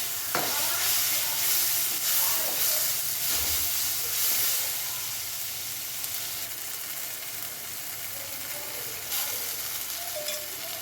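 Chopped tomato and ginger garlic paste sauté in a pan for Chettinad mutton chukka, giving a constant close sizzle and hiss with occasional scraping stirs and no talking.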